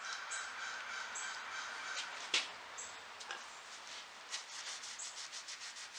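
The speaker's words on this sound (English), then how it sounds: "And then we'll buff it off." Soft, steady rubbing as wax is buffed off a heavily carved oak high-back chair, a faint continuous scrubbing with one sharper tap near the middle and no talking.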